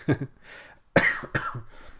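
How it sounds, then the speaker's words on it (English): Several sharp, close coughs in quick bursts, one near the start and a louder pair later, separated by brief quiet breathing. "Sorry if I have the occasional cough."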